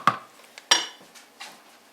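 Spoonfuls of einkorn biscuit topping being dropped into a cooking pot, with a few sharp metallic clinks of spoon against pot and small soft thuds, close and quiet, with no voice.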